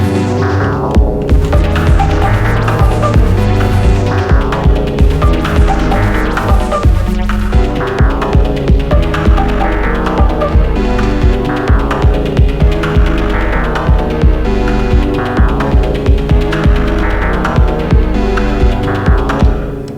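Elektron Monomachine synthesizer jam run through distortion, with loud, dense layered synth tones over a steady throbbing bass pulse, repeating rhythmic patterns continuing throughout without speech.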